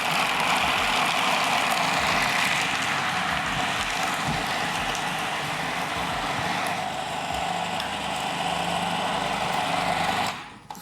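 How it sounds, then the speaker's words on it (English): Food processor blitzing pistachios, ground almonds and lemon zest: a loud, continuous whirring grind that holds steady for about ten seconds, then cuts off abruptly at the end, with no talk. "So we've got our pistachios, we've got our ground almonds, and we've got our lemon zest. And let's start blitzing."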